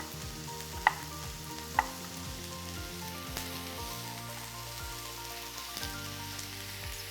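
Zucchini for ratatouille sizzles steadily in a hot pan, a soft continuous frying hiss with a couple of sharp clinks early on and faint scraping, no voices.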